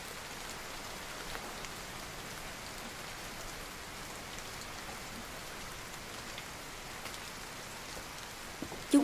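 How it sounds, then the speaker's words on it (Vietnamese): Constant rain pouring down outdoors, a dense, even hiss of drops on surfaces that holds steady throughout with no voices. "Trời đang mưa"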